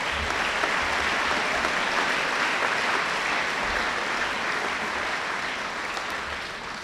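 Sustained applause from a school assembly crowd honouring newly named Gold House student leaders at a 2018 awards presentation, steady and dense throughout, easing slightly at the end.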